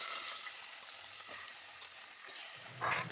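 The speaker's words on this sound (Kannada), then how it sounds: "ಹಾಕಿ ಫ್ರೈ ಆದ ನಂತರ ಅದಕ್ಕೆ ನಾವು ತೊಳೆದಿಟ್ಟಂಥ ಮಟನನ್ನು ಹಾಕ್ತೇವೆ." Mutton pieces hitting hot oil with fried onion, a steady soft sizzle and frying crackle throughout, with a slightly louder burst near the end, Karnataka-style mutton gravy being cooked.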